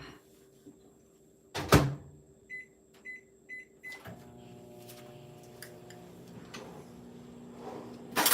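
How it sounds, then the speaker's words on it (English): A microwave oven finishes heating candy melts: a loud clunk, a few short spaced beeps, then the steady hum of the running oven, close by with no talk. "I'm just finishing melting some candy melts in the microwave right now."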